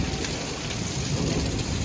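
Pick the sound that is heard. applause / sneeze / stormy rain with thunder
stormy rain with thunder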